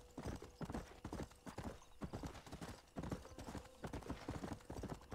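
A horse's hooves clip-clop at a steady trot in the western video game Red Dead Redemption, an even rhythmic beat of close, crisp hoof strikes with a faint whinny.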